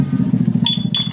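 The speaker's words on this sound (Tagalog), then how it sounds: "Pagka ginalaw uli, mag-a-alarm na yung motor." A two-way alarm installed on a Honda TMX Supremo motorcycle chirps two short high warning beeps over a steady low engine idle as the parked bike is moved.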